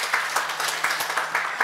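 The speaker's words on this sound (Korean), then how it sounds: "박수 한번 다시 한번 쳐주시죠" Applause from a local residents' gathering for a welcomed regional aide, thin and fairly sparse, with a handful of distinct claps pulsing at an uneven rhythm over a low steady hum.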